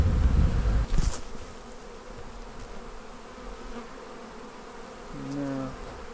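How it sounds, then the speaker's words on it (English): Honeybees buzz around a swarm trap in an apiary, a steady close hum with some louder passes near the start. There is no talking. "There are bees in here though."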